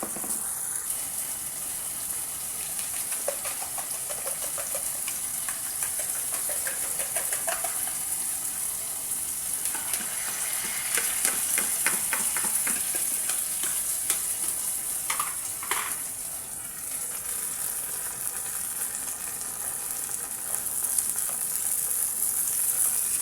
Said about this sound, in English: So here I'm frying some eggs.